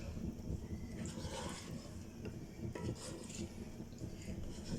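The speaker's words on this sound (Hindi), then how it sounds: "अब इसको अच्छे से मिक्स कर लेंगे।" Chicken karahi seasoned with black pepper is stirred in a pan, with metal utensil scrapes and clinks repeating against the cookware throughout, close and moderately loud.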